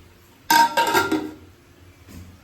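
A cooking pot lid is handled in a home kitchen: a burst of metallic clattering and clinking rings out for under a second, then fades to quiet handling noise.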